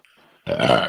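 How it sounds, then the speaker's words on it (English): A single loud, close burp erupts after a faint, quiet lead-in and rasps for about half a second before cutting off. "Was that a loud burp from you?"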